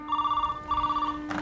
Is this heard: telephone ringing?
yes